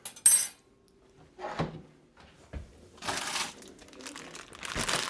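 A plastic bag of broccoli florets crinkles and rustles up close in short, separate bursts, with quiet pauses between handlings.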